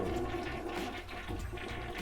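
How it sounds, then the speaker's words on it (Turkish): A toilet flushes after tissue is dropped into the bowl, a loud, steady rush and gurgle of water lasting a couple of seconds, heard up close with no talking. "Peçeteyi attık içine. Ve sifona basıyoruz."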